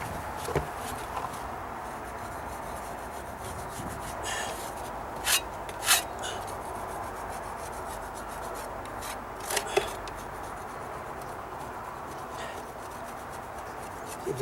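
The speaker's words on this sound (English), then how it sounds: "If it gets too hard in certain areas, you can scrape it like that." Scraping of hardened skim coat on wooden deck stairs, quiet rough rubbing strokes punctuated by a few sharper scrapes and clicks, close and faint with no speech.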